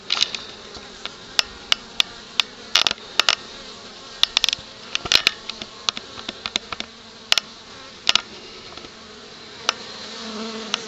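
Honey bees buzz around a trap-out at a cabin in Gatlinburg, a soft continuous hum broken by many quick sharp buzzes as individual bees zip close past.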